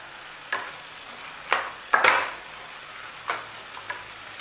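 Vegetables for sambar sauté in a pan with a soft background sizzle, broken by a few sharp stirring scrapes and taps spaced about a second apart.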